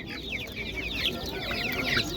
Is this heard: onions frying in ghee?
no